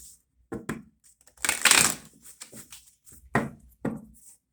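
Tarot card deck being shuffled by hand indoors, giving a few short papery riffles and taps spread across a few seconds, close and fairly quiet.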